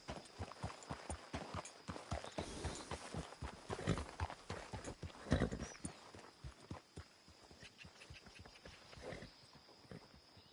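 Horse hooves clip-clop in a steady walking rhythm, fairly close, with a faint high tone and light ambient noise behind.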